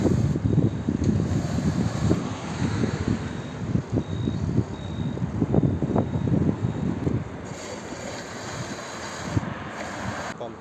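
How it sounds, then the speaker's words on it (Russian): Steady wind buffets the microphone with rough, gusty rumbling that stays constant throughout, loud and close. "Меня уже ветром сдувает."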